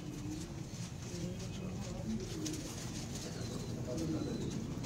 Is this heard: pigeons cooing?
yes